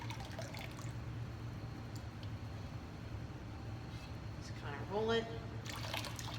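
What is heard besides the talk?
glaze pouring out of a teapot spout while dip glazing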